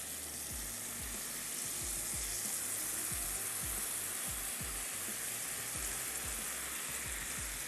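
Boiled chana dal hitting a hot pan with water, a broad steady sizzle and hiss heard fairly quietly, with a faint rhythmic low bubbling or stirring beneath it throughout.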